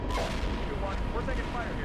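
Gunfire in the armored-combat simulator Steel Beasts Pro, a brief burst of booming shots and rattling fire with a voice speaking over it.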